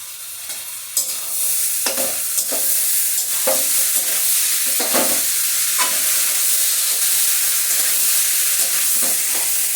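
Tarka with sugar fries over a medium flame in a pan, a loud, continuous sizzle with repeated scraping and stirring strokes of a spatula, close up and without talk.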